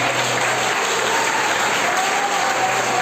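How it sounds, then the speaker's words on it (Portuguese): A church congregation applauds during a Portuguese-language worship service, steady dense clapping filling the room without pause. "aplauda ao nome do Senhor Jesus Cristo"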